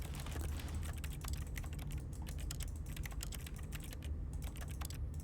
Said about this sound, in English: Why is there a keyboard noise?